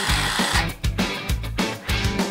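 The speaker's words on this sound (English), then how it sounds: "You can drill on the mini workbench." A toy drill on a mini workbench playset whirs in repeated short buzzing bursts, loud and close, with brief gaps between each run.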